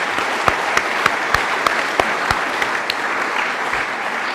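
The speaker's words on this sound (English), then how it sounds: "And I want to give Todd a big round of applause." A crowd applauds steadily, dense clapping filling the room throughout, with a few sharper claps standing out.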